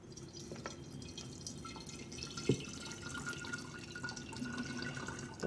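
Bone broth with bits of old parsley is strained using a cup, giving faint trickles, drips and a few small clinks of liquid pouring in a quiet kitchen, with no talking.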